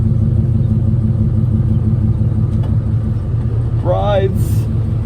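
A Ford Mustang engine running as the car reverses, a steady loud low rumble with a voice speaking over it and a brief squeaky sound near the end.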